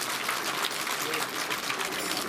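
Audience applause at an Azadi Ka Amrit Mahotsav public event in Sarahan, Chamba, loud continuous clapping from a crowd without pause across the whole moment.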